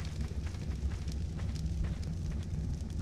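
A bonfire of thatch and meat catching light in Ark: Survival Evolved, giving a steady low rumbling crackle with soft wind-like roar, continuous and fairly loud throughout with no talking.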